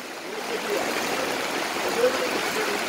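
Heavy rain and rising floodwater flow in a continuous broadband rush, steady and fairly loud, without distinct individual drops.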